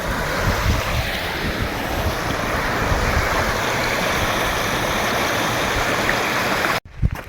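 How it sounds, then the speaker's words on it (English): The River Colgy in the Northern Fells of Cumbria rushing in full flow, a loud, continuous roar of churning water with some wind buffeting, cut off abruptly near the end. "The River Colgy is in full flow now."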